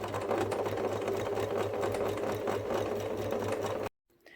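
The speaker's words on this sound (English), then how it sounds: "It will need a few times of popping your needle down and pivoting your fabric a bit, just to keep the seam nice and even." A sewing machine runs in a steady, continuous whir as it stitches the seam of a fabric memory bear, close and fairly loud, then stops abruptly just before the end.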